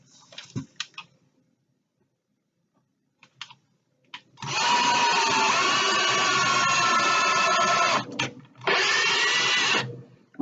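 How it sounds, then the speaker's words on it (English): Drill bit boring a pilot hole in a marbled laptop stand gives a loud, close, sustained grinding whine in two bursts, the second after a short break, preceded by scattered handling clicks. "I'm going to be using this drill bit to create a pilot hole, just as I did on the bottom"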